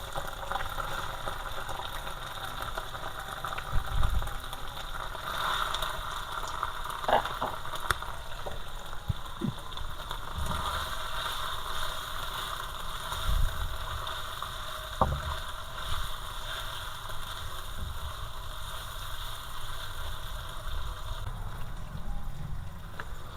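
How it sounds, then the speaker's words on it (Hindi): Marinated chicken is added to a pan of sautéed garlic and sizzles in a steady bubbling hiss, with occasional clinks and stirring knocks, and no voices. "अब इसके अंदर मैरिनेटेड चिकन शामिल कर रहा हूँ।"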